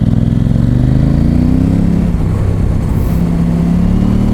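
A KTM 790 Adventure R motorcycle engine runs loud and close, with the pitch easing as the throttle closes, then settling into a steady drone.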